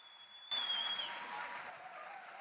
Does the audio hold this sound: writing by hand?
no